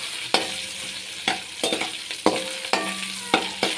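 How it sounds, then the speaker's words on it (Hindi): Ginger garlic paste frying in oil for matar pulao, a steady sizzle close up, broken by regular scraping strokes of a spoon stirring the pan. "इस तरह से आपने इसको पकाना है अच्छे तरीके से ऑयल में।"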